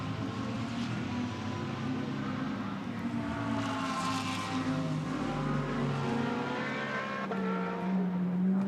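Lamborghini GT race car lapping the Barcelona circuit in qualifying, a continuous engine drone with rising and falling revs under a broad crowd-like wash, no talk heard.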